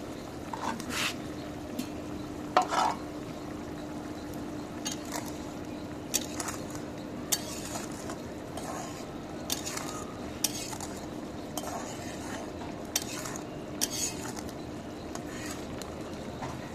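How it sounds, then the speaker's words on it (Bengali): Food being stirred in a pot while cooking, repeated scrapes and clinks of a utensil against the metal coming in irregular bursts over a low background hum. "এবার একটু নাড়া দিয়ে দিই"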